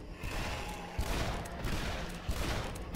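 Dense, continuous gunfire from the video game Shadow Warrior 2013, a loud, steady barrage with a few sharper bursts standing out, with no talking.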